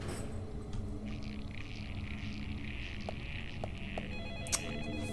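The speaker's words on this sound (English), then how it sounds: "Oh, the phone's ringing." Telephone ringing in the video game Deadly Premonition, a faint repeating electronic ring in bursts over quiet ambient game sound, with a few soft clicks near the end.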